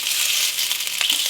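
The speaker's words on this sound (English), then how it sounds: "There's nothing as good as the sound of a kettle boiling or something frying in the pan." Steady broadband sizzle of sausages frying in a pan, close and continuous, with a few soft clicks and pops near the end.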